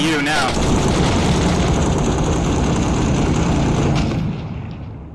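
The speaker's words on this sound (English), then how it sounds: "He's shooting at you now" Sustained, loud gunfire crackles almost without pause in the Six Days in Fallujah video game, with a low engine-like roar under it that tapers off near the end.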